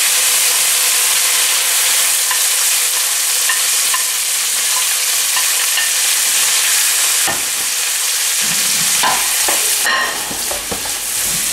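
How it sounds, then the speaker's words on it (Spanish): Peppers fry in a splash of oil in a pan for vegetable empanadilla filling, a steady loud sizzle with occasional stirring clatter and scraping near the end. "Le voy a poner un chorro de aceite, así un poquitín. Añado los pimientos."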